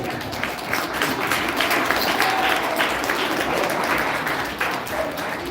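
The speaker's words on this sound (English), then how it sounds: "Can somebody clap hands" An audience at a book and wellness center launch claps steadily for several seconds in a dense, continuous wash of applause. The clapping is moderately loud and heard alone.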